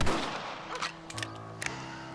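A rifle shot in Red Dead Redemption, a sharp broadband crack near the start with a few smaller reports and a low rumbling tail following it, no talk over it.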